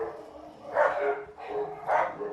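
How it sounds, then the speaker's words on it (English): Several dogs, apparently a neighbour's along with a household dog, bark in a row somewhere off at a moderate distance, with repeated muffled bursts over steady background noise. "Sorry about the dogs, probably my neighbour's dogs"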